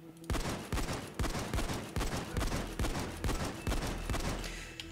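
Rapid shotgun blasts from a weapon in the video game Payday 2, fired as fast as possible: about a dozen loud, sharp booms in a steady fast rhythm, each with a short ringing tail, no talking.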